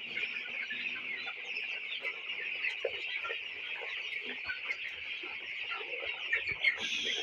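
Many 17-day-old broiler chickens cluck and chatter together in a steady, dense chorus, like a busy poultry house with no voices.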